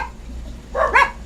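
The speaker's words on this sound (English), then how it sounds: "Can you quiet the dogs, please?" A dog barks sharply indoors, a quick pair of close, loud barks after a moment of near quiet.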